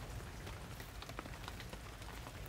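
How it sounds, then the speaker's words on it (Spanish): Rain falls steadily on hard surfaces, a constant soft patter of drops forming an even, quiet wash of noise throughout. "No para de llover."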